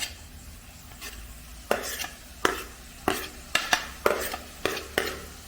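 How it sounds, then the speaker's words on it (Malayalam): Chopped onion sautéing in a pan with ginger and garlic, a low sizzle under repeated scraping strokes of a spoon against the pan, about a dozen irregular stirring clacks close by. "അതുവരെ നമുക്കൊന്ന് വഴറ്റി കൊടുക്കാം"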